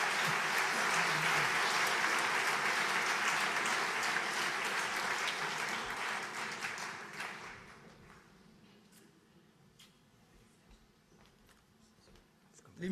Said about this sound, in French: je vous demande d'applaudir Roselyne Bachelot